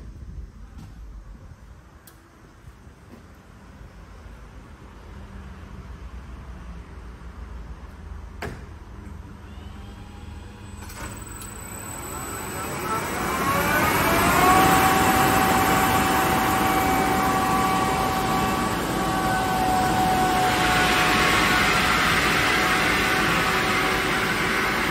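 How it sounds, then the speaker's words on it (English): A KAESER screw compressor with inverter drive, connected to a 725-litre air receiver, starts up after a few clicks, its motor whine rising steadily in pitch and loudness, then settles into a loud, sustained mechanical hum with a high tonal whine. "So I will start the compressor now and see how it builds pressure from 0 to 8."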